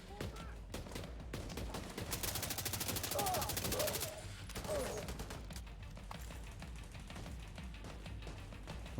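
Gunfire in the shooter game The Division 2: rapid dense bursts of automatic fire and scattered single shots over a continuous battle, peaking in a loud sustained volley, with a voice briefly heard amid the shooting.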